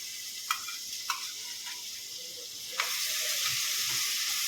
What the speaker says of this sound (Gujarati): આપણે આદુ મરચાં અને લસણની પેસ્ટ કરી છે ને એ નાખશું આપણે